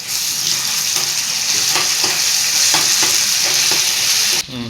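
Golden-brown onions fry loudly in a pan with ginger paste while a spoon stirs them in a steady rhythm of scrapes over constant sizzling, ending with a brief clatter.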